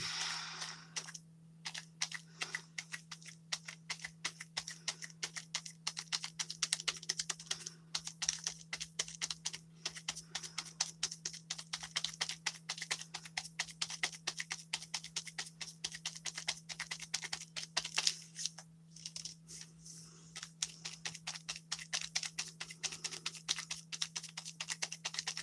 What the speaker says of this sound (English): the pouncing of paint and sponge on paper